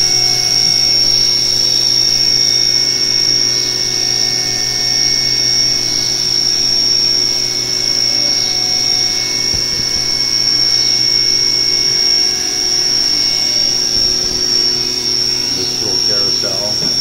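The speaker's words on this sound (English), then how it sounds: "that same face mill will come back in and skim the backside" A CNC milling machine running a face mill skimming the back of a part held on a vacuum chuck, a steady high-pitched tonal whine with constant machining hum throughout.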